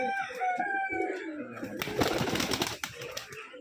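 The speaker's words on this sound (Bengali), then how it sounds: "এই যে হাতবাজির কবুতর" Hand-flying pigeons, a caught bird of a non-gerebaj breed on a Rajshahi pigeon farm, coo in a low rolling burble close by, followed by a burst of rustling and flapping noise, with other birds faintly in the background.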